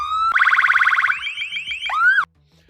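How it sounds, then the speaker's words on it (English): Sirens on an armored vehicle with a steel ram bumper: a loud, close electronic wail switching between a rapid warble, a yelp pattern and a rising whoop before cutting off abruptly. "and sirens."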